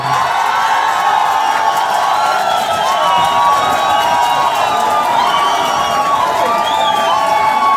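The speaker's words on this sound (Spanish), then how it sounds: "Quiero que sea fuerte el aplauso para Omar Leiva y Gonzalo Flores." A studio audience at a talent competition show cheers and applauds contestants, with a loud sustained crowd roar, whoops and shouts running throughout, dense and continuous.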